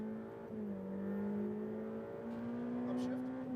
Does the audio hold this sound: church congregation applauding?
no